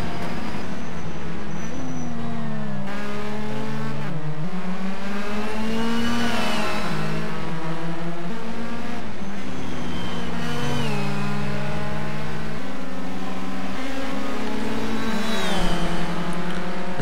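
Racing cars lapping a circuit at the Surtees corner, engines revving up and down through gear changes, loud and continuous with several cars overlapping, no talk.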